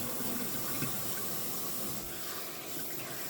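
Cold water runs steadily from a tap into a sink while fresh farm-raised bacon is being cured, making a continuous even hiss and splash with no breaks, close and fairly loud.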